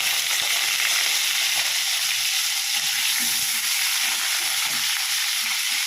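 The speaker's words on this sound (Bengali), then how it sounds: "আলুগুলোকে আমি কড়াইতে ভেজে নেব।" Potatoes frying in mustard oil in a kadai give off a dense, steady crackling sizzle, close and even, with faint stirring underneath and no voices.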